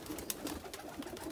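Pigeons coo softly in a breeding loft, a low continuous murmur of overlapping calls heard from close by with no voices.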